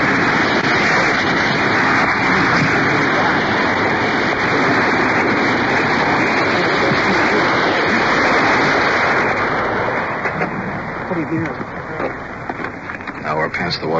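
A waterfall pours over rocks at night, a loud, continuous roaring rush close by that eases slightly toward the end, with someone talking over it.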